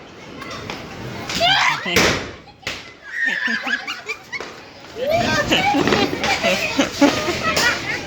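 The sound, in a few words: Diwali firecracker going off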